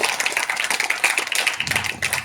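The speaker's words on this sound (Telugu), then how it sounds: "ఏకే సార్ గారికి అందరూ కూడా క్లాప్స్ ఇవ్వాల్సిందిగా కోరుతున్నాను" Audience applause for AK sir at a school farewell day celebration, a dense crowd of hands clapping steadily and close, continuing without pause throughout.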